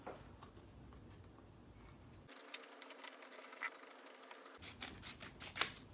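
Scissors cutting a book cover sheet for a paperback, a series of faint crisp snips and slicing rustles repeating close by, with no talk.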